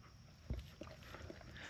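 A dog named Thor gives soft whimpers and short panting breaths, faint and close, with a brief louder huff partway through and no clear talk.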